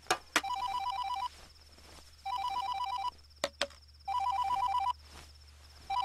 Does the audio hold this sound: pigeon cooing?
no